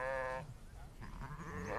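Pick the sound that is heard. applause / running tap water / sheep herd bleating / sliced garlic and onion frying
sheep herd bleating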